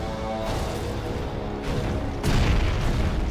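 Offshore battleship artillery shelling in Command & Conquer Generals, with a deep boom landing mid-clip and a louder, heavier impact following, over a constant rumbling battle bed with a faint voice present.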